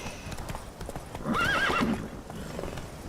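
Hooves clip-clop on the ground as Roach, Geralt's horse in The Witcher 3 video game, moves along, with a brief whinny partway through over a low ambient game background.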